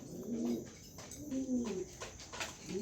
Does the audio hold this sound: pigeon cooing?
yes